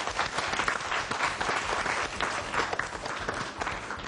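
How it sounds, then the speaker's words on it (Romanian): A studio audience at a children's television show applauds a child's singing with steady, even clapping, moderately distant and fairly soft, without talk over it. "Să mai aplaudăm o dată"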